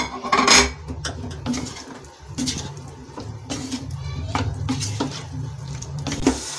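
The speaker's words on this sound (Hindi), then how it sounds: "और अब मैं इसमें ये आलू डालूंगी।" Potatoes tipped into a pan and stirred while making a crisp fasting dosa: clattering metal spoon and pan knocks, scraping and stirring sounds close by, with a brief louder clank at the start.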